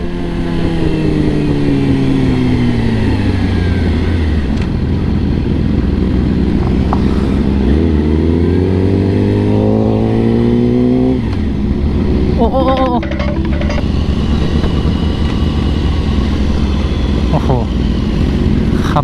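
A big bike motorcycle revs hard during a wheelie, its engine pitch climbing and falling in repeated loud sweeps, with excited voices nearby.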